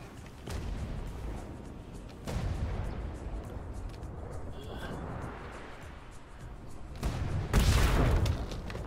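Ships in the game Atlas fire their cannons in a naval battle: several deep booms land at irregular intervals, with a heavier blast near the end, over a rumbling battle background.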